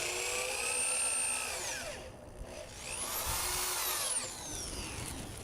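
A power drill drives 2.5-inch deck screws into wooden boards while a raised garden bed is assembled. Two close whining runs rise and fall in pitch, with a short pause between them and no talking.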